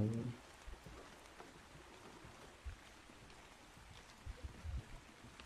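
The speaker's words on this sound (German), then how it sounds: "Es regnet. Es regnet." Steady light rain in the video game ARK: Survival Evolved on Xbox One patters throughout, a soft hiss with a few louder low thumps scattered in.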